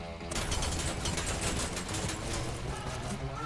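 Gunfire in a VR e-sports shooter: a dense, loud barrage of rapid shots fills the whole moment, rattling continuously without a pause.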